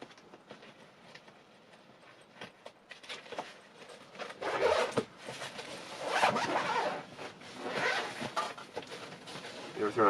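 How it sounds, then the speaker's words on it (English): Zipper on a discarded violin case being pulled open in several rubbing bursts that grow louder toward the end, close by, with faint rattling handling noise between pulls. "there's the zipper"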